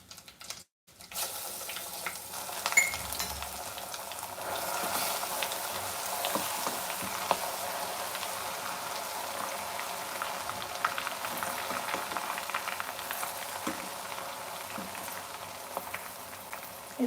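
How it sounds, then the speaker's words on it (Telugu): Continuous crackling sizzle of ginger garlic paste frying in hot sesame oil for chicken pickle, steady and close, with small pops scattered throughout and no talking. "కొంచెం నువ్వుల నూనె కదండి పొంగుతుంది మనం సిమ్లో పెట్టుకుని చేసుకుందాం"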